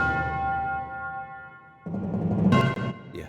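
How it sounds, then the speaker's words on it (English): Tubular bells ring in an orchestral music cue, a long resonant chime decaying over the first seconds before fuller orchestral strikes and a bright bell hit come in, loud and close. "Tubular bells."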